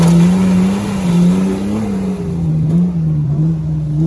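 A 3-litre V6 off-road race car on an off-road course in Ossetia, in the Caucasus, roars loud and close, its engine note holding a steady drone that rises and dips as the throttle shifts, with no talk.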